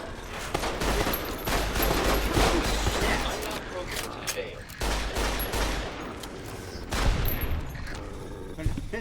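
Rapid gunfire from weapons in Fallout: New Vegas rattles through most of the stretch in dense, loud bursts, with brief pauses between volleys and a voice talking over the shooting.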